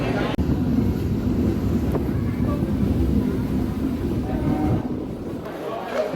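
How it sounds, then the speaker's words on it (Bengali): The Digha special local train sits at Panskura station with a steady, loud rumble and wind-buffeted hum, with muffled voices mixed into the background. "এটি সেই দীঘা স্পেশাল লোকাল ট্রেন যেটি এখান থেকে ছেড়ে যাবে"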